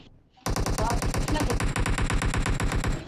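SMG gunfire in the mobile shooter PUBG Mobile: after a brief quiet start, a sustained rapid-fire burst of loud, evenly spaced shots rattles on without pause to the end.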